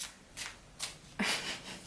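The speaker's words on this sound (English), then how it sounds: "let me wait a sec with shuffling" Tarot cards being shuffled by hand, several quick riffling bursts in a row, close and crisp with brief pauses between them.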